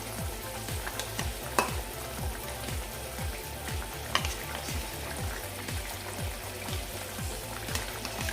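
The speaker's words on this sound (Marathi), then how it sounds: "आता यामध्ये मी भेंडी घालते जी आपण तेलामध्ये फ्राय करून घेतली होती ती" Fried okra is stirred into a boiling masala in a pan, a steady bubbling sizzle close up with rhythmic repeated scraping strokes of a spoon.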